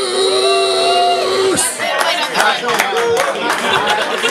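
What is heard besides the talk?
audience cheering and clapping for performer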